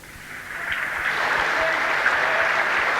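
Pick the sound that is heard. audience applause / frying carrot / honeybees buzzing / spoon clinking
audience applause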